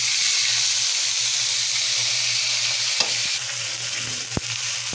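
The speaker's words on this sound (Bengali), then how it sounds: "আমি তেলে আগে পেঁয়াজটা দিব, বাটা পেঁয়াজটা দিয়ে দিব।" Ground onion paste sizzles and fries in hot oil in a home kitchen, a steady bright hiss with a low hum beneath and a couple of sharp clinks of a utensil stirring.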